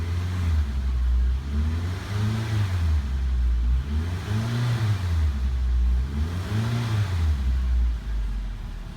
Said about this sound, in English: Give her some little rev here.